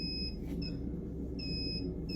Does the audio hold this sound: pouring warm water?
no